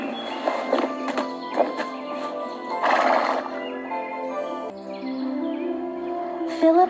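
A horse whinnies loudly and close, with clip-clopping hooves and faint birdsong behind, as a sound effect in a Sleeping Beauty story.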